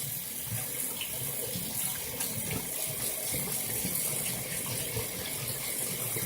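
Tap water runs steadily into a sink, a constant close hiss and splatter that carries on without a break.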